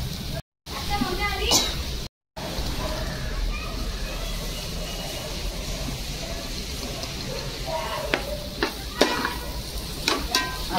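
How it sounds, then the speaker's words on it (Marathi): Wild takla greens, a rain-grown village vegetable, stirred in a pan over a very low flame, giving a steady soft sizzle with scraping and turning sounds throughout and a few sharper clinks near the end, while a person talks. "आता एकदम कमी ठेवलाय जाळ आणि मस्त भाजी हलवून घ्यायची"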